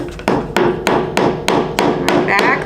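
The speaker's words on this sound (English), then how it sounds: "I'm gonna get these nails out." A hammer claws nails out of badly delaminated wood while making a spindle-based flag, giving sharp, evenly spaced knocks about every third of a second, loud and close with no talking.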